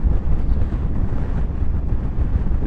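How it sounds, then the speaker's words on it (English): Strong wind buffets the microphone on a road ride toward Rutland, producing a loud, continuous low rumble and roar with no speech. "It's very windy, and I've had to move the microphone yet again"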